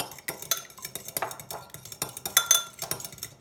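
A fork whisks egg and other ingredients in a bowl, making quick rhythmic clinks and scrapes against the dish, close and fairly crisp, with no talking.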